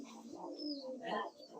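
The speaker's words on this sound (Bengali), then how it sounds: "নিচে অনেকগুলো কবুতর ছাড়া আছে" Soft, continuous cooing from many domestic pigeons loose on the floor of a pigeon farm, layered overlapping coos without any voices.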